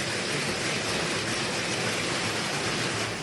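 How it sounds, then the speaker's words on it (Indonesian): Gravel-sized hail pours down on a residential area on the slope of Mount Merapi in Paten village, Dukun district. It makes a dense, unbroken hiss and patter that is loud and steady throughout, with no voices. "hujan es sebesar kerikil berjatuhan dari langit"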